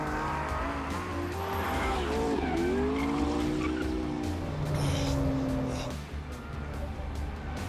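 Cars are driven around a track, engines revving and tires squealing in long rising and falling howls through corners, moderately distant and continuous.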